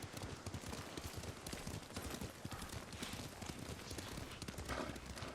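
A horse's hooves clip-clop steadily during riding in the video game Ghost of Tsushima, a quick continuous trotting rhythm heard at moderate, even level with no speech over it.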